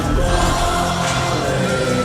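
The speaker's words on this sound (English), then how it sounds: "Oh, the crowd on their feet." Basketball crowd at a college rivalry game, Grand Canyon hosting New Mexico State, roaring steadily on its feet, a dense, loud wash of cheering and yelling that stays sustained throughout.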